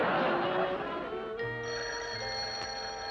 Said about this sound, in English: Ozzie, answer the phone.